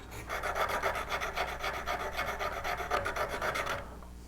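A V-parting woodcarving tool is sharpened with rapid back-and-forth strokes, a close, rhythmic rasping scrape that stops abruptly at the end.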